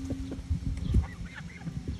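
Ducks and geese at a park honk and quack in a busy, overlapping flock, several close birds calling in quick irregular bursts.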